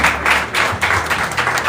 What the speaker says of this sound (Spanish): Nos demos un fuerte aplauso.